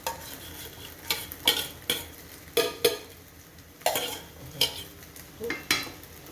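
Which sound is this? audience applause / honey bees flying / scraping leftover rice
scraping leftover rice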